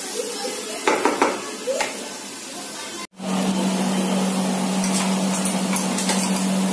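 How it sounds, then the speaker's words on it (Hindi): Boiled fish roasting in a pan for fish balls gives a few light utensil clinks, then a sudden switch to a steady, even sizzle that continues to the end. "तो पहले ये भून लेते हैं"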